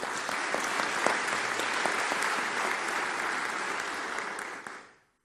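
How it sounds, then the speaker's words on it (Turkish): At a tea producers' meeting, a hall full of people claps steadily for fellow travelers, a thick, even applause with sharp individual claps standing out before it cuts off abruptly. "Ben öncelikle hep beraber yol arkadaşlığı yaptığımız insanlarımızı bir kere daha alkışlamanızı rica ediyorum."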